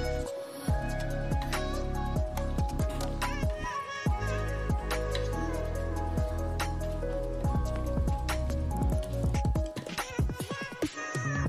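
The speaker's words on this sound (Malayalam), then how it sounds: "എടുത്തു വെച്ചിരിക്കുന്ന ചിക്കൻ കൂടി ഇട്ട് കൊടുക്കാം" Boneless chicken drops into a handi and sizzles in the hot pot with dense, crackling spatter and wet squishing that go on throughout.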